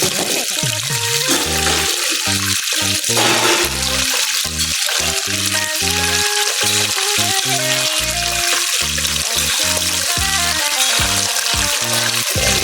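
Garlic fries in a pan for a simple chopsuey, a steady hissing sizzle running beneath loud rhythmic music.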